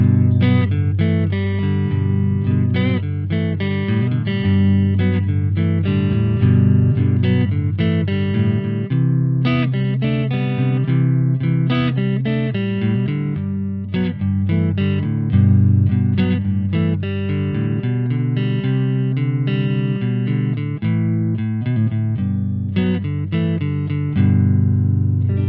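Fender Longboard Stratocaster electric guitar played clean through its pickups, a steady run of bright plucked notes and chords ringing out loud and close for the whole stretch, with no talking.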